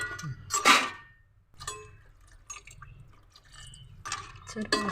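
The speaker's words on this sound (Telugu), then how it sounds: "ముక్క మునిగేంత వరకు వాటర్ పోసుకోవాలి" Water splashes and drips into a pan of crab curry in short bursts, close by, while someone talks over it.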